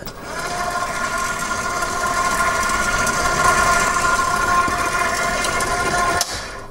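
A large stand mixer beating cranberry orange biscotti dough with pecans, a steady droning motor whir that holds constant before cutting off abruptly near the end, close and fairly loud.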